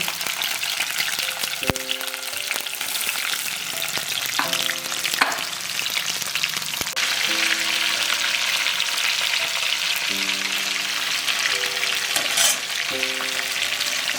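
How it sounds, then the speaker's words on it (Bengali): Crabs fry loudly in a hot pan, a steady close sizzle and crackle with occasional clanks and stirring knocks, plus faint tonal beeps in the background. "কাঁকড়াও চিংড়ি মাছের মতো বেশি ভাজবেন"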